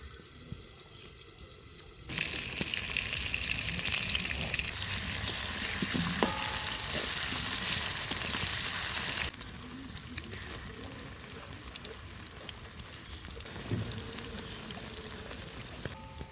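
Potatoes frying in a pan of oil: a steady loud sizzle starts abruptly, runs for several seconds, then drops to a quieter bubbling fry with a few soft clinks, and no one speaks.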